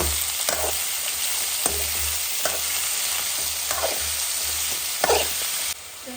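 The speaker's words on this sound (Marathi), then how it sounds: "आता तेलामध्ये परतून घेऊ।" Ridge gourd pieces sautéing in hot oil with red chili powder, a steady sizzle with repeated scraping stirs of a spatula in the pan.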